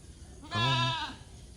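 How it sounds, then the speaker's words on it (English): A goat on a hillside gives a single, clear, nasal bleat lasting about half a second. It is close and stands alone over a quiet outdoor background. "I think they are goats."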